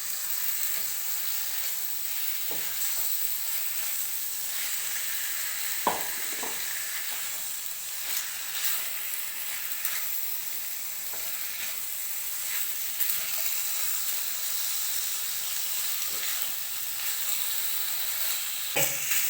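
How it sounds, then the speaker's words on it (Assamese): Chicken fries with onion, ginger and garlic in a pan, sizzling in a steady close hiss. A few sharp utensil scrapes and clicks sound as it is stirred, with no talking. "দুই 3 মিনিটমান চিকেনখিনি আমি এনেকৈ ভাজি ল'ম"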